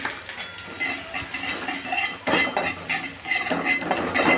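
Okra (bhindi) stir-fried in a pan with green chilli and turmeric: a spoon scrapes and clatters against the pan in quick, uneven strokes over a steady sizzle, close up, with louder bursts in the second half.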